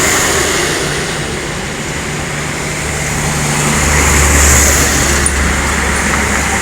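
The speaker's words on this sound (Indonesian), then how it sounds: "Ada bus juga tuh." A bus passes on a road toward Rantau. A steady, loud engine rumble and road roar swell slightly as it goes by, with no speech.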